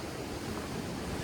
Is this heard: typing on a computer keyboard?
no